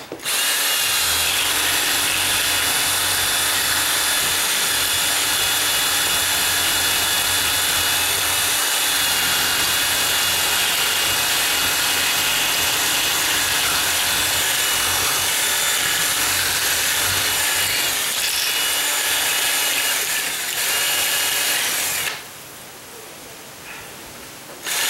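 A power drill whines loudly and continuously for a long stretch while adjusting a deadbolt strike plate, then abruptly cuts out as the drill bit breaks, leaving quieter background noise.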